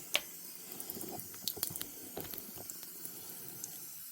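Warm water runs from a tap into a dirty sink, a steady faint splashing trickle with scattered small drips and clinks throughout, no voices.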